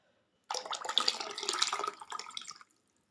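Tea-leaf water for a liquid plant fertilizer is poured from a vessel into a bowl, a soft, close trickling splash lasting about two seconds between quiet moments.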